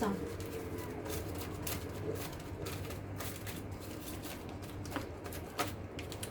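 Tarot cards being shuffled during a love reading, a soft continuous riffling and rustle with scattered light taps, heard close under faint background noise.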